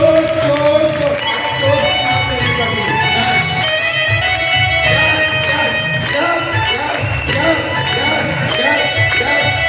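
A large audience at a motivational business event claps and cheers loudly and continuously, dense crowd noise layered over music with a steady beat.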